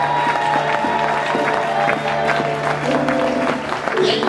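Church congregation in Paris applauding, dense sustained clapping from a large crowd, loud and close, with some voices mixed in.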